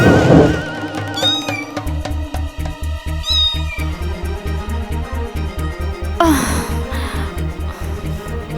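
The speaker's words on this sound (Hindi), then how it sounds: "लगता है वो नकचड़ी बिल्ली आज फिर आ गई है।" A cat meows repeatedly, loud and close, in a scene from an Aladdin television drama, with a steady rhythmic musical beat underneath and a dramatic swell partway through.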